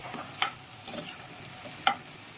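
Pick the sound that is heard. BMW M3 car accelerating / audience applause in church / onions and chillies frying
onions and chillies frying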